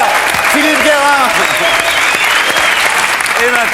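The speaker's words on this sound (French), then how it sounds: "On applaudit l'expert, Philippe Guérin." A television studio audience claps for an expert guest on a French talk show, producing dense, steady applause that fills the whole stretch at close range, with voices faintly mixed in.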